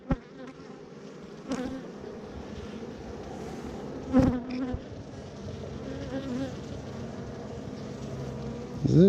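A dense, steady buzz of angry honeybees at a beehive merged by the newspaper method, close and continuous throughout, with a few brief louder bumps and swells of the swarm.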